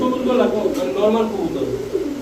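Pigeons cooing in low, burbling murmurs close by, with a person talking over them much of the time.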